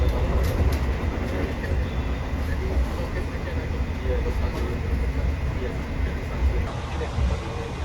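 Majapahit New Generation economy-class passenger train running on rails between Jakarta and Malang, a steady, close rumble and rail roar heard continuously from inside the coach with a faint high hiss overhead.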